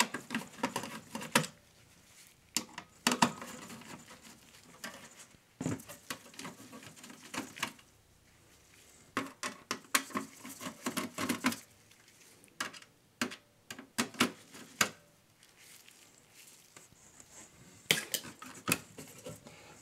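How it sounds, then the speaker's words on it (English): Phillips screwdriver working the motherboard screws out of a Dell Optiplex 3020, with scattered small metallic clicks, taps and scraping bursts coming intermittently and close up in an otherwise quiet space. "Use a Phillips screwdriver to get it removed."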